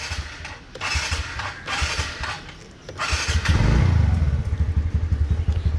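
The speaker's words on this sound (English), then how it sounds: "So let me start the scooter." A scooter engine cranks and catches, settling into a loud, steady low rumble with rapid pulsing, preceded by a few clattering mechanical noises.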